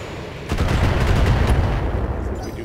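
LRM-10 missiles fire in a rapid rumbling volley in the BattleTech video game, a loud, dense burst that starts abruptly and roars on steadily to the end.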